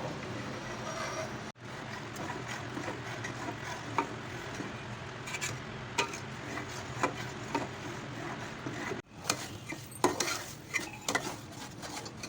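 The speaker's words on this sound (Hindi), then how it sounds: "ये मैं इसमें पूरा ऐड कर दूँगी और इसको मैं भूनती रहूँगी" A spoon stirs and scrapes through chana dal halwa roasting with fresh milk in a pan, making steady clinks and scraping at close range.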